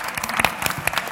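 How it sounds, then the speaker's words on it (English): Brief burst of audience applause at a wellness travel conference panel, many hands clapping in a quick, even patter. "Please give a round of applause to my team."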